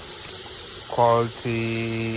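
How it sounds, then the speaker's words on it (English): Garden hose with a brass flow meter fitted, filling a 5-gallon bucket, makes a steady, fairly loud rushing hiss throughout while someone speaks over it. "I start filling up a bucket"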